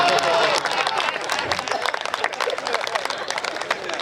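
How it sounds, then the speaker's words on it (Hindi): Dense audience applause at a Hindi comedy show, loud and continuous with many overlapping claps and some crowd murmur, steady throughout. "आपकी तालियां बता रही है"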